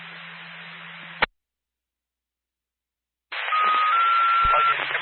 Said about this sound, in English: Now the tones are how they tell fire EMS to go somewhere.